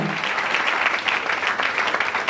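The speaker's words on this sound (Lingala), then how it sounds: "Acclamons très fort pour le Seigneur" A church congregation claps loudly in praise, a dense, sustained wave of applause with steady, even energy throughout.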